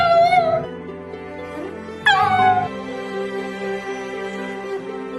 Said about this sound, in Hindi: उसके बाद वो कुत्ता बहुत ज्यादा रोने लगा